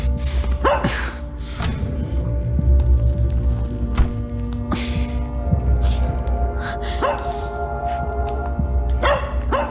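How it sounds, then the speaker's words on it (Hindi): A puppy barks and yips in short, scattered bursts, some loud and close, over a busy dubbed movie soundtrack with a steady low hum. "ये पिल्ला कुछ बता रहा है।"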